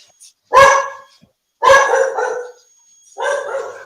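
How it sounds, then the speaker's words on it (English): A dog gives three loud, close barks spaced about a second apart, each sharp and slightly drawn out, with quiet gaps between and no other sounds. "I have a dog, and you can hear my dog in the background."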